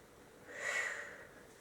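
A single soft, slow breath drawn in and let out through the nose, quiet and close in a still room.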